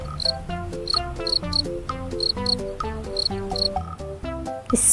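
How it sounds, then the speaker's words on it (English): Cricket chirping set against a rhythmic musical backing, with repeated bright chirps recurring steadily through the passage. "cricket."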